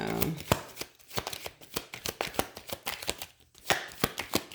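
A tarot card deck is split and riffled, giving a quick run of sharp, crisp card snaps and flutters, close and fairly loud, alone without talk.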